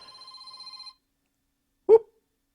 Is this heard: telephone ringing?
yes